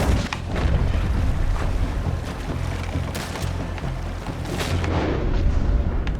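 Rapid gunfire in the Red Dead Redemption 2 video game, a dense run of booming shots and bursts repeating steadily over a constant low rumble, loud and close throughout with no talk.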